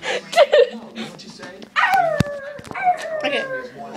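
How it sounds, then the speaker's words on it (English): A little chihuahua yaps and whines close by in short high bursts, with a sharp yip near the middle, while a frightened person talks and exclaims over it. "It's a little chihuahua."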